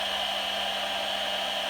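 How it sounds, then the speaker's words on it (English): A blow dryer runs steadily to dry homemade decoupage tissue paper made from copy paper and Mod Podge, a constant loud whooshing hum with no pauses. "I'm going to put this over here underneath a blow dryer"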